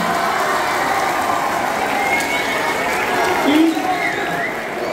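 Applause from the audience at a school talent event welcoming teachers, a steady crowd clatter with some background voices mixed in.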